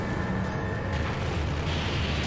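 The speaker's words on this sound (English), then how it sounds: "Oh, they just blow up like that?" Cannonballs explode in Monster Hunter 3U, a loud continuous rumbling blast that erupts with a sharp burst near the middle and again toward the end, with no talking over it.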